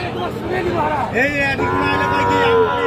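Cow at a cattle market: a loud nearby moo that rises and holds, set against crowd murmur and market bustle.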